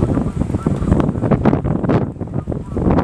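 Strong wind gusting across a town in Sivas, Turkey, roars in a continuous rough buffeting rush close to the microphone, surging and easing over a few seconds.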